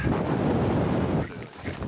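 Strong wind buffets the microphone high on a Cascade peak near Mount Adams, a loud, steady broadband roar that eases briefly toward the end before gusting again.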